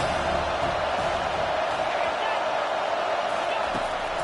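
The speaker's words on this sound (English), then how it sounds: "Big 3rd down as the crowd gets behind this defense." Stadium crowd in an NCAA football video game roaring on a big third down: a dense, continuous wash of cheering and noise, loud and sustained throughout, with commentary voices underneath.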